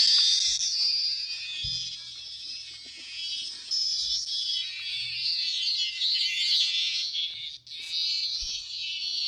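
Distressed cicada giving a continuous, harsh high-pitched buzz that runs steadily throughout with slight wavering, fairly close, with faint low thumps and a brief dip near the end.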